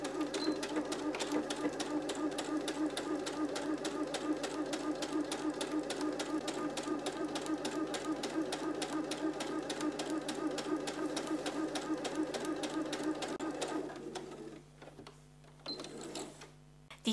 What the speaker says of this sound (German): Ich orientiere mich hier an der 3 cm Markierung meiner Nähmaschine um dann hier in einem Abstand von 3 cm am Rand entlang zu nähen.